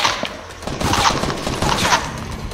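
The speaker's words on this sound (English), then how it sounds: "People are getting shot." Gunfire in the Fortnite battle royale video game, a rapid scatter of shots and mechanical clatter at moderate loudness, continuing irregularly throughout.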